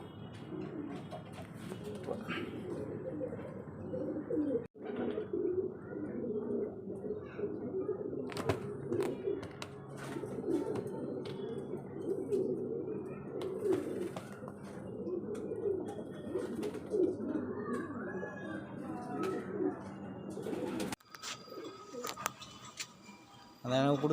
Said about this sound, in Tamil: நல்லா பறக்கும் புறா இது சரியா.